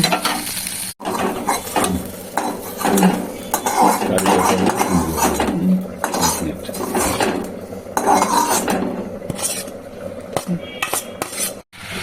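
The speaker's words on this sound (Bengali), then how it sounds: "ভাজা চলছে ভাজা চলছে" A utensil scrapes and clinks against a pan as pumpkin sizzles in oil, busy continuous stirring up close.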